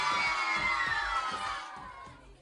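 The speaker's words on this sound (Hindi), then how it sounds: "इनके लिए बहुत सारी तालियां।" A studio audience at a Pakistani morning TV show claps and cheers in a dense, steady wash with bright shouts on top, loud and close, fading slightly toward the end.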